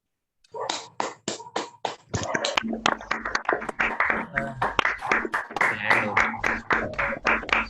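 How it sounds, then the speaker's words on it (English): Audience applause at an Independence Day celebration welcoming Major General Dr. Vijay Pawar, opening with a few separate, evenly spaced claps that quickly swell into dense, sustained clapping from a crowd. "Please give a huge round of applause to welcome Major General Dr. Vijay Pawar."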